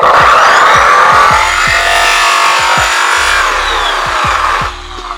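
A polishing wheel spins steadily while a compound bar is pressed against it for a few seconds, giving a loud, continuous whirring rub with a scraping edge. Repeated low thumps run underneath.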